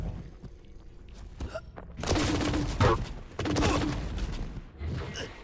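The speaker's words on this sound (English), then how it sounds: "Oh, beautiful rockets." Rocket launcher fire and explosions echo through a Quake Champions match, with several bursts of blasts and thuds over a few seconds. Quieter game sounds fill the gaps between them.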